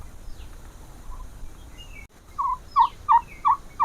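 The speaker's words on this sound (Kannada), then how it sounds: "ಇಲ್ಲಿ ನೋಡಿ ಟರ್ಕಿ ಕೋಳಿಗಳನ್ನ ಸಾಕಿದ್ದಾರೆ" Turkeys in a pen let out a rapid series of five loud gobbles in the second half, each a short warbling burst, preceded by quieter clucks over a low background rumble.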